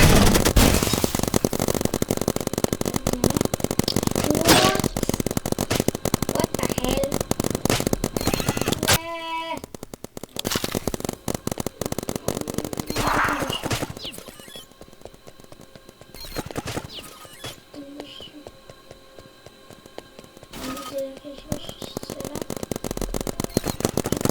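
Paintball guns shooting on a paintball field: dense, rapid crackling volleys of shots, loud at first, then thinning into sparser pops and bursts, with faint voices in the background.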